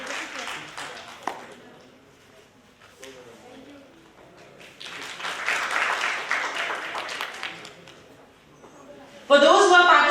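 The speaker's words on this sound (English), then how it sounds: "Huge round of applause, everyone." An audience at a social work conference in a hall claps in a swelling round of applause, mixed with stretches of talking and a louder burst of sound near the end.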